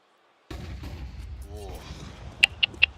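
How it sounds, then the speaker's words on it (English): Two grenades exploding in the video game CS2 during a Major tournament match, muffled blasts under a commentator's voice, with a few sharp bright pops near the end. "Ikkita bomba. Double nades."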